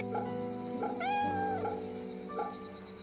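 Cat in the video game Fate/Samurai Remnant meows while being petted: a clear, close meow in the middle, then a shorter softer one, over a steady game music bed.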